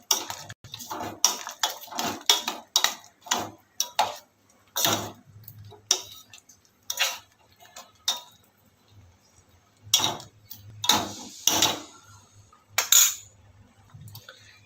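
Sweet potato slices being stirred with cardamom powder and nutmeg in a pan, giving a series of clinking, scraping utensil strikes against the metal at an irregular rhythm, close and fairly loud, with short pauses between strokes.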